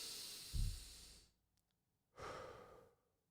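A person takes a deep breath: a long, close inhale rushes in, then after a short silence a slow, audible exhale follows, quiet and alone with no talking.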